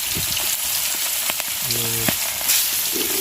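Fish fries in hot oil outdoors, a steady loud sizzle filling the space, with a few faint clicks and tones in the background.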